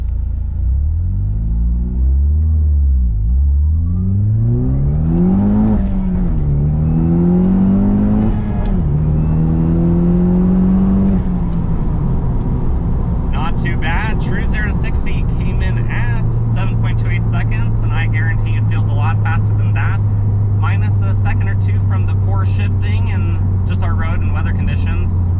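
A Pontiac Solstice GXP Turbo accelerates hard through the gears, its engine note climbing loudly to high RPM with several shifts, then settling into a sustained drone with road rumble and wind, heard from inside the car.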